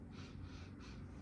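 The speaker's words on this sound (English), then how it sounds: "Let's give it a sniff." Close, quiet nasal sniffing at rendered beef tallow, three short inhalations in a row over faint room noise, with no talking.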